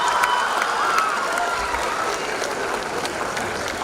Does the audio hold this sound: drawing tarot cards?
no